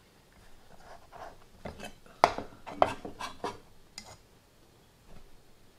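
A utensil mixing diced cucumbers into mayonnaise and dill in a bowl, heard as close, soft scraping and stirring with a few sharper clinks against the bowl, with no talking.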